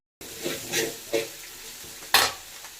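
Ginger garlic paste frying in a pan for egg rice, with several distinct stirring scrapes and bursts of sizzling, close and alone without talk.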